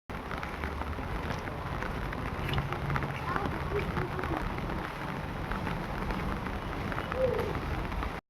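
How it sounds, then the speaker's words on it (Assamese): Steady rain falls in a dense, even wash that carries on without a break, with no voices over it. "বৰষুণৰ শব্দনো কোনে ভাল নাপায়"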